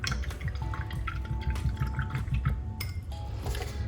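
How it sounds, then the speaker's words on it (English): A paintbrush is swished and rinsed in water during a kids' ice cream painting class, with soft trickling and dripping splashes repeating steadily, close by and without talk. "Take that brush and wash it off."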